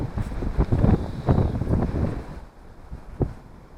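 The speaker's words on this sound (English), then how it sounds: "The wind's just spoiling it." Wind gusting across a fishing lake, a rumbling, buffeting rush against the microphone that swells and surges for most of the stretch, then eases to a quieter hiss with one last brief gust near the end.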